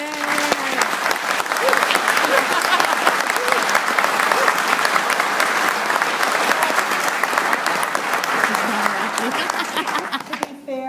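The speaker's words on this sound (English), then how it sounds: "To be fair, let's hold the applause." A roomful of people applauds at a public gun policy panel discussion in Holliston, Massachusetts, with a state representative; loud, sustained, dense clapping fills the hall for about ten seconds before tapering off, with a few voices mixed in.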